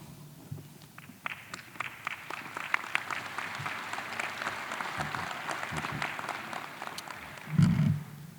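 An audience at a Cleveland police graduation ceremony claps for several seconds, a moderately distant, sustained patter of applause that ends with a short low thump near the close.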